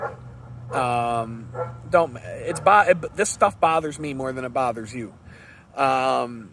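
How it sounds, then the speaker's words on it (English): Dogs bark and yip in short bursts around someone speaking, the barking mixed under and between his talk at moderate distance. "don't know if you can hear the dogs barking"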